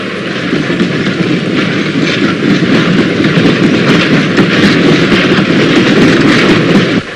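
A 1960s freight train running on the old Great Central line near Sheffield toward the Rotherham branch at Tinsley, a loud continuous rumbling roar with clattering and rushing noise, steady throughout and close by.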